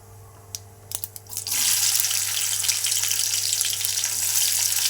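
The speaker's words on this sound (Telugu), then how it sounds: "ఫస్ట్ ఆనియన్స్ వేసుకోవాలి." Onions dropped into hot oil with cumin and mustard seeds, bursting into a loud, continuous sizzle after a few light clinks, with no talk.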